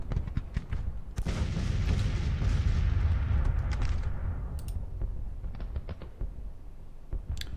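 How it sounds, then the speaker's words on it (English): Artillery fire in Grand Tactician: The Civil War, a heavy booming cannon salvo rumbling low and loud for a few seconds, then fading, with scattered sharp clicks and distant reports afterward. "Look at all this artillery over here."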